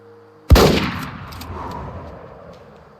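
A single sharp hunting rifle shot in the hunting game Way of the Hunter, during a red deer hunt, cracking loudly out of near silence and trailing into a long fading outdoor echo.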